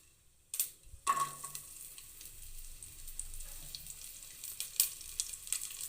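Garlic hits hot oil already frying cinnamon and cloves, starting a faint, crackling sizzle after a couple of small knocks, then settling into a soft, steady frying hiss.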